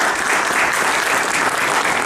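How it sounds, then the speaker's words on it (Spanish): An audience in an auditing seminar claps to welcome a speaker. The applause is loud and continuous, with many hands clapping evenly throughout the short stretch and no voices over it. "recibámoslos con un fuerte aplauso"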